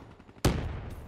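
A single loud, sharp shot from the Annihilator pistol in Black Ops 3, cracking suddenly after a quiet lead-in and trailing off in a short echoing tail.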